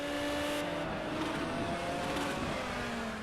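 A Ferrari 355 Challenge race car, a 1990s car with an H-pattern gearbox, drones under load as it changes down, its engine tone stepping across the gears in a steady, fairly loud pass with no talk.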